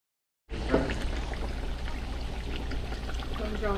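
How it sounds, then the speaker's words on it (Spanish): Pork cracklings (chicharrón) fry in hot lard with a steady, dense sizzle and crackle that starts abruptly and stays fairly loud throughout. "Pueden escuchar el ruido del chicharrón cuando está tronando."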